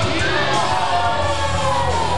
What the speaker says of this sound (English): Todd Sople getting booed by the fans